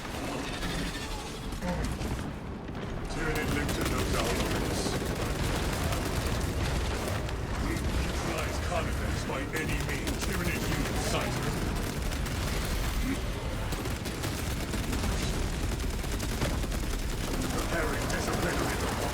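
Sustained full-auto heavy bolter fire in a sci-fi shooter game, a dense, loud, unbroken stream of rapid gunshots with mechanical clatter lasting nearly twenty seconds after a brief pause at the start.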